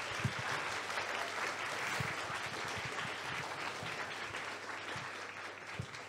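Sustained applause from an audience at a school podcast event, a steady dense wash of clapping holding for several seconds at moderate distance with no talk over it.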